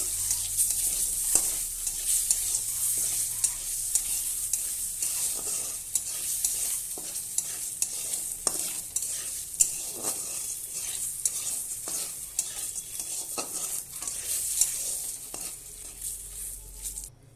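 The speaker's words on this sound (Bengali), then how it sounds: "এবার আমি ভালোভাবে নেড়ে নেব" Eggs seasoned with salt and turmeric fry in a pan under a bright, steady sizzle, with frequent spatula stirring clicks and scrapes close by and no speech.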